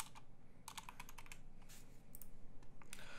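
Rapid bursts of typing on a computer keyboard, close and clear, with clustered keystrokes and short pauses between runs over a quiet background hum.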